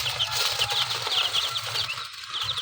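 Newly hatched chicken chicks, about sixty of them in a brooding setup, peep in rapid, repeated high chirps that overlap continuously, close by and fairly loud, with no talking.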